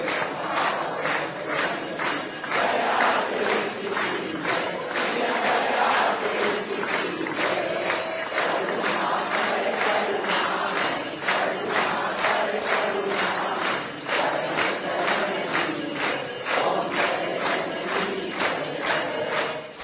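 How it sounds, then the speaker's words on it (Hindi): Crowds of devotees gather at a Maa Kushmanda temple during Navratri, creating a loud, dense wash of crowd noise with a steady rhythmic pulse throughout. "मां कूष्मांडा के दर्शन पूजन के लिए लगातार भक्तों की भीड़ उमड़ रही है।"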